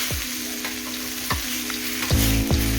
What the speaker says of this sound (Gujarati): વાહ, હલાવતા રહેવું વચ્ચે વચ્ચે.